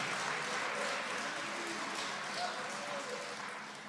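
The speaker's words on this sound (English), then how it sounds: "We're clapping for Dennis." An audience at a presidential remarks event at the Owens & Minor company claps steadily for a man named Dennis, a dense, even wash of clapping that fades slightly toward the end, with a speaking voice over it.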